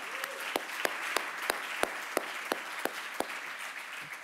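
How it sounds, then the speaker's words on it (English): Plenary-session audience at a CityLab morning gathering applauds, a soft, distant-sounding wash of clapping with a few crisp individual claps popping out at regular intervals. "Let's give a round of applause for the people who make this all possible."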